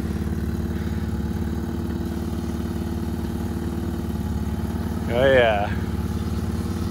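An old Honda Civic winter beater on fresh winter tires idles with a steady, even engine drone throughout, and a voice briefly speaks over it near the end.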